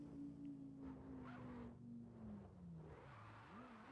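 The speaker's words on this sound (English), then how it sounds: "I hear a car rolling around in the distance." A car in a mountain touge racing video game rolls around in the distance, a faint engine drone with its pitch slowly falling, then dipping and rising again near the end.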